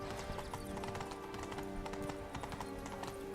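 Roach, a horse in the Witcher 3 game, trots steadily with a continuous clip-clop of hooves under a low ambient hum, the footfalls close and rhythmic throughout.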